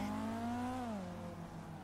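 A motorcycle engine in a video game revs inside a store, its whine rising and then falling in pitch, fairly faint and steady with no voices.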